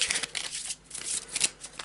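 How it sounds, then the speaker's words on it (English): Playing cards being shuffled and cut for the board game Lobotomy, a close, crisp run of rapid riffling and flicking bursts over about two seconds, alone without talk. "so that means a crappy shuffle and a cut"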